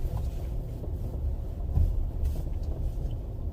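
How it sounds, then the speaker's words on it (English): A 2022 Nissan Frontier creeping down a steep 16-degree offroad hill as its hill-descent system modulates the brakes: a steady low rumble and grinding drone with brief surges, close and continuous, no talk. "All that noise you hear is modulation of the brakes, so the system can keep the vehicle from picking up speed"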